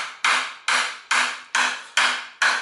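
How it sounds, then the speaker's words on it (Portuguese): Six sharp hammer blows strike a bent metal slider on a Honda Hornet motorcycle at a steady, even rhythm, each loud ring fading before the next hit. "Dá umas marteladas ali pra voltar."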